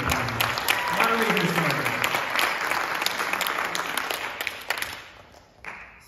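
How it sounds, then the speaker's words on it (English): Audience at a high school pitch night applauds with steady, dense clapping that fills the room for about five seconds, then thins out and fades near the end. "So one more quick round of applause"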